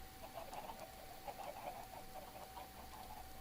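Chickens in a survival video game cluck in quick, scattered bursts, soft and a little distant over a low steady hum, with no talking.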